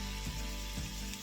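About two cups of fresh and reconstituted dried shiitake mushrooms sizzling in vegetable and sesame oil, a steady crackling fry with soft stirring thumps, quiet and close.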